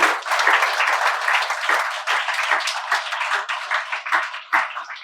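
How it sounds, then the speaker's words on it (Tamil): A packed hall audience breaks into strong applause, a dense crackle of many hands that stays loud and busy throughout, with slight swells and dips over about five seconds. "அவங்களுக்கு நல்ல ஒரு அரங்க நிறைந்த கைத்தட்டலை தாங்க"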